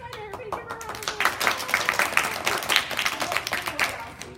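An audience clapping during a book club session, a sharp patter of hands building and holding steady, with a voice speaking over the start.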